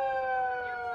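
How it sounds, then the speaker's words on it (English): A siren holding a steady, loud tone for about a second, close and alone without talk. "It's just a siren."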